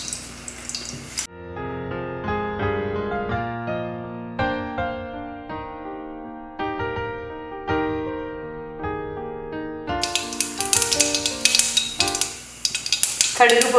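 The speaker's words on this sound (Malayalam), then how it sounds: "എണ്ണ മൂത്തതിന് ശേഷം ഒരു 1/2 സ്പൂൺ കഷ്ടിച്ച് കടുകിടുക." Mustard seeds splutter in hot coconut oil, making a run of sharp, close crackling pops in the last few seconds. Instrumental music plays before the popping starts.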